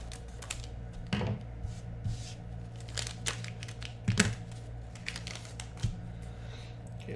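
Packaging for a NeoGeo Pocket GameDrive ROM cart is cut open, with crinkling plastic, sharp tearing snips and handling clicks in irregular close bursts over a low steady hum.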